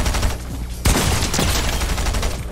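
Rapid SMG gunfire crackles in a first-person shooter match, a dense burst of shots that cuts in sharply partway through and keeps rattling loudly to the end.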